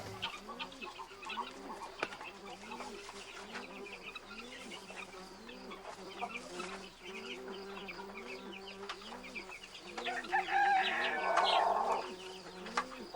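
Chickens in a henhouse on a hot day, soft rhythmic clucking from several hens, quiet and close, with a louder burst of bird chatter near the end.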